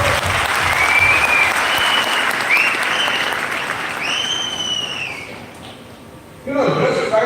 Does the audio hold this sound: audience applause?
yes